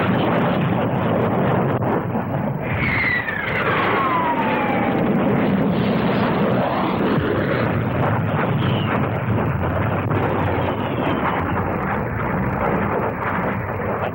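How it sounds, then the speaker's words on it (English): Supermarine Scimitar naval jets of 807 Squadron fly past at the 1959 Farnborough airshow, a loud continuous broadband roar with rising and falling whine as they pass, filling the whole clip. "The supersonic scimitars of 807 Squadron."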